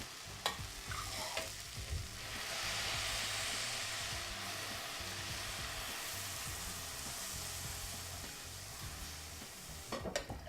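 Heated vegetable broth poured into a pot of softened vegetables, a soft steady sizzle and bubbling hiss rising over a few seconds and holding, with light clinks of a utensil at the start and end, close and fairly quiet.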